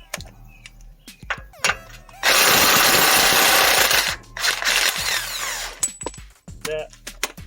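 An impact tool rattles hard in two loud bursts about two seconds apart, taking a nut off the front suspension of a Ford Econoline E350 during ball joint work, with clanks and thunks of handled metal parts around it.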